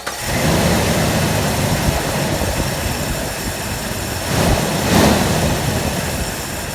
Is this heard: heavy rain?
no